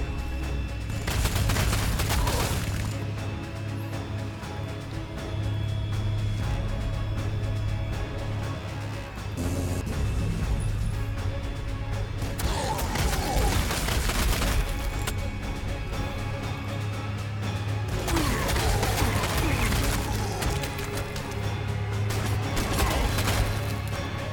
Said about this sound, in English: I'll actually fire at the Shooter Boys.